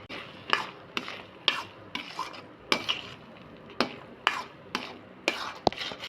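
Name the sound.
stirring cashews into pineapple kesari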